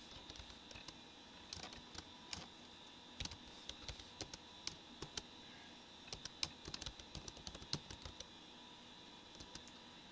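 Typing on a computer keyboard while filling out a student form in educational database software, with a steady run of light, close key clicks and occasional sharper taps.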